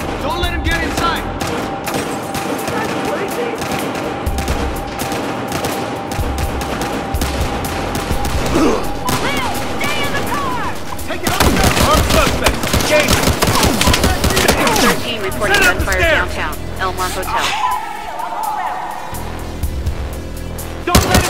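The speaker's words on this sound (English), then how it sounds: "Reporting gunfire downtown, Elmont Hotel." Rapid bursts of Battlefield Hardline video game gunfire crackle over a busy, cluttered mix of effects and background sounds, with a few voices heard among the shooting.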